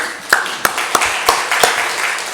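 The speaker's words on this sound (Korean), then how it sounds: "하나님께 영광의 박수 돌려드리겠습니다" A church congregation claps in unison, five sharp, evenly spaced beats close by, followed by a softer, scattered clapping tail.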